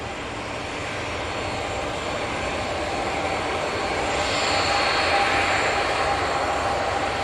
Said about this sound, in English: Got our first prop of the day coming in now.